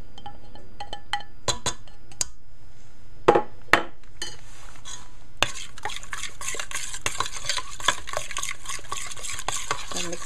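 Chocolate brownie batter is mixed in a bowl, with a utensil clinking and scraping against the sides in irregular strokes, then a continuous, close stirring rustle.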